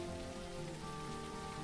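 Steady rain falls in a survival video game, a dense, even patter on surfaces that continues without a break, moderately loud and close, with no talk over it.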